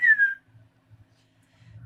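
A person whistles a single short falling note, clear and close, then a few faint low rustles follow in near silence.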